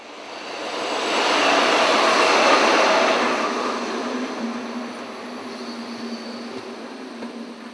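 A train at Léva railway station rumbles steadily, its broad roar swelling over the first few seconds and then easing to a sustained, slightly softer hum with no voices.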